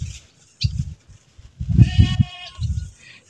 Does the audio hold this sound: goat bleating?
yes